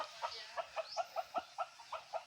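Chickens clucking in a steady series of short, evenly spaced calls, fairly close by, with no talking over them.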